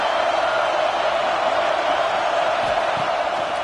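A big football stadium crowd at a Florida versus Utah game keeps up a loud, sustained roar of cheering and noise throughout, with no break and only slight swells.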